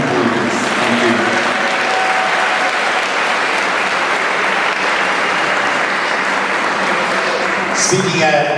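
Sustained applause from a large audience at an Urbana Middle School promotion ceremony for student speaker Karen, a steady, dense wash of clapping throughout, with a brief voice near the end.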